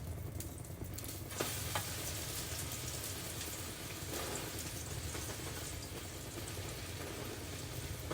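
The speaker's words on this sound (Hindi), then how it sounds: "मेरे को तो ऐसे लग रहा है मैंने तेल के अंदर अंडा डुबा दिया।" An egg frying in oil in a pan at breakfast, a faint, dense, even hiss of sizzling oil that runs steadily without a break, soft and rain-like.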